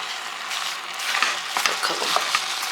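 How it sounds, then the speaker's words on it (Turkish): A spoon stirs orange jam with sugar in a pot, soft scraping and gentle sizzling strokes that grow busier toward the end, close and alone. "şöyle bir yandan da karıştırayım ki tencereye pek güvenemedim"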